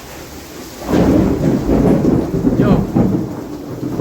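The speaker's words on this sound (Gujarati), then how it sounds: "1:15 અને વીજ ને ગાજ બહુ છે." A heavy thunderstorm over a village near a dam: a long, low thunder roll swells and rumbles over steady pouring rain, with a single word spoken briefly.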